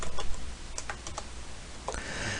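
Short bursts of keystrokes on a computer keyboard click close and clear in a quiet room, a few quick taps in small clusters with pauses between and no talking.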